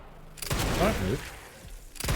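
A short burst of rapid gunfire from Resident Evil 9 cracks out close and loud for under a second, followed by a few softer impacts, with a person talking over the game.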